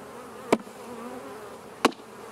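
Honey bees hum steadily around an open hive during a honey harvest, a close, even drone broken by two brief sharp knocks.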